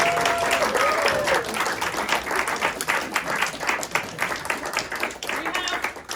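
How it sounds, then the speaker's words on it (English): An audience gives the actors of an Escalade celebration performance a loud, sustained round of applause, dense clapping throughout with a few voices calling out over it. "a round of applause for our actors"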